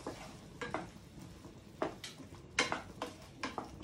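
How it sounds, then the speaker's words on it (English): A green potato curry is stirred in a pan, with soft irregular scrapes and light clatters of the spoon against the metal over a faint low simmer, quiet and close. "Stir it once again."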